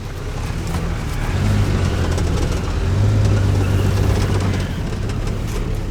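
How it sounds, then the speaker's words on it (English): A Dodge Dart Swinger engine idles steadily at close range, giving a low, even rumble that swells a little midway, with no voices over it. "But everything's functioning. Motor's running."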